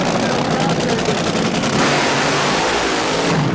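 Top fuel dragsters in a 1987 semi-final round at the Bakersfield Fuel and Gas Championships, a dense continuous roaring engine blast filling the whole clip with a steady pulsing texture, loud and near, with a voice underneath.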